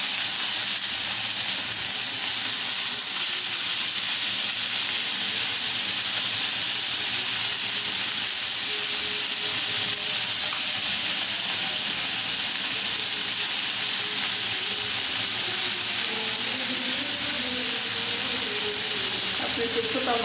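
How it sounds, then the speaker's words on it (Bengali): Small chetla fish fry in a pan with a loud, continuous hiss and crackle of sizzling oil that stays close and unbroken throughout, with faint speech in the background. "এই যে চেতলা মাছ ভাজি করবো"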